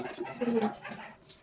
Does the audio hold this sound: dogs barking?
yes